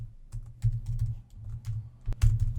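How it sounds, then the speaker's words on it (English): Computer keyboard typing, a quick run of soft clicking keystrokes up close, with a few sharper key hits near the end and no talking. "So now if I was to type"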